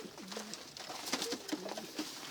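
Adana pigeons brought indoors during a snowfall coo close by, a handful of low, rolling calls repeating over a quiet room.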